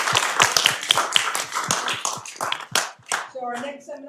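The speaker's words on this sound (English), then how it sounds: "let's give a round of applause" Scattered clapping from a small seminar audience at a university public lecture, distinct individual claps that thin out after a few seconds, then a voice begins speaking near the end.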